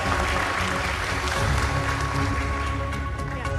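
An audience claps steadily and loudly for a student named Rahma at an education forum, a dense, continuous wash of applause that holds for several seconds without letting up.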